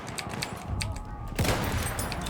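Battlefield 1 gunfire: a rapid burst of sharp shots from a World War I shooter, followed by a heavier blast, loud and close over game ambience, with players talking around it.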